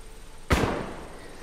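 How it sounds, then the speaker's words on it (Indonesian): A single sharp gunshot from hunters resting outside a house beyond a wide cornfield, with a sudden broadband crack and a short rumbling tail that fades over about a second. "tiba-tiba Joseph dan Sydney mendengar suara tembakan dari kejauhan"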